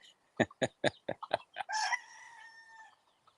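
Chickens are heard nearby, mother hens among their chicks with a new pair of frizzles, giving a series of sharp clucks and then a longer drawn-out call.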